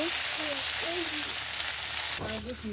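Onions frying in a pan for chicken kosha, a steady bright sizzle heard close up, with a brief stirring scrape near the end.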